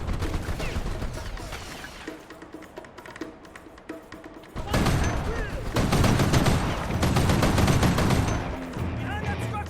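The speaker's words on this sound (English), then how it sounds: "They got a 50 cal machine gun nest down there." A .50 cal machine gun nest fires in a video game, bursts of rapid gunfire building from moderate to louder and denser in the second half, with a voice talking over it.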